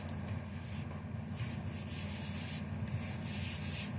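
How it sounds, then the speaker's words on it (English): A pencil mark is rubbed out with an eraser on a sheet of paper for a folded paper craft: a steady, close scrubbing hiss in repeated strokes over a low background hum, with no talking. "so I'm just going to erase that"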